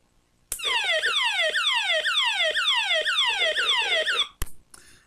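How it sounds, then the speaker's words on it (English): A solar-powered flashlight radio sounds its siren: loud, close, electronic wails sweeping repeatedly downward in quick regular cycles for about four seconds, then cutting off with a click. "And that's the siren."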